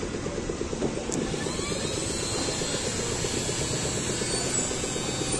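A modified Bajaj Pulsar 150 motorcycle engine, started with its electric self-starter, runs close by at a steady idle, its low pulsing chug holding even throughout, with no talking.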